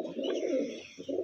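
Pigeons in a rooftop loft coo softly and nearby in a brief, rounded run of low notes, with a short pause before the last coo.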